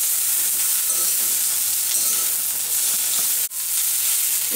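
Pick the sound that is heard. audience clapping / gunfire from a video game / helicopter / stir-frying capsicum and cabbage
stir-frying capsicum and cabbage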